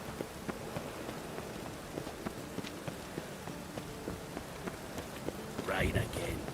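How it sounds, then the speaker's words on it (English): Rain pours in the city of Novigrad in The Witcher 3: Wild Hunt, a dense steady patter with scattered drop ticks and a brief louder gust near the end. "Rain again."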